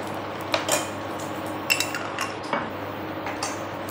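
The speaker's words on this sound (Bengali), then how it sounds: "ভালো করে মিশিয়ে নেব।" Tomato sauce and soy sauce being stirred into a pan for Indo-Chinese chili baby corn: a handful of light metallic clinks and scrapes from the utensil against the pan over a low, steady kitchen hum.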